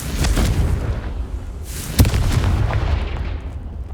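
A Confringo fire spell from the Hogwarts Legacy video game bursts with a sharp, loud explosive crack over a dense rumbling roar that fades away afterwards.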